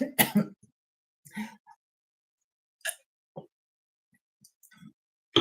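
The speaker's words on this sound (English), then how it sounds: "I get dry throat really easy when I talk. So before I start coughing a lot" Several short throat clears and a cough from a dry throat come in separate bursts, close and fairly soft, with quiet pauses between them.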